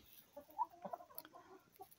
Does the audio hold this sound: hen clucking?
yes